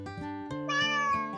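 A single cat gives a clear, close meow that rises and falls, alone and without other sound around it.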